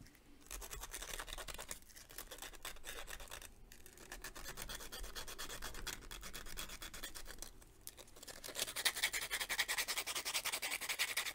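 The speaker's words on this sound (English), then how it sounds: "I'm going to grab some sandpaper." Sandpaper rubbed over a painted tabletop miniature, a steady dry scratching with rapid back-and-forth strokes that continues throughout, growing brighter and louder near the end, with no talking.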